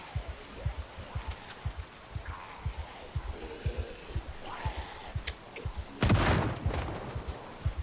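Gunfire from a firearm in the video game Project Zomboid: a steady train of low thumping shots, evenly spaced and fairly close, ending in a louder burst near the end.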